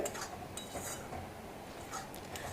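A spoon stirs fried chana dal through boiling sugar syrup in a pot for homemade chana dal laddu, giving faint, soft scraping and light clinks over a low bubbling hiss, with no talking.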